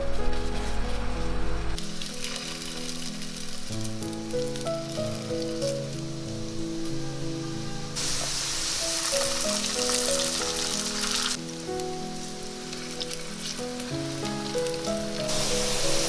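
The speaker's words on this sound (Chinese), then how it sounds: "取个平底锅，加入少许油，然后把饼放下来煎。" A chicken patty fries in a little oil in a flat pan, its soft, crackling sizzle rising in bursts beneath louder background music.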